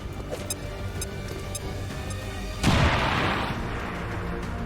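Single heavy gunshot in the tactical game XCOM 2, a sharp booming blast partway through that decays with a rumbling tail over quieter background game sounds.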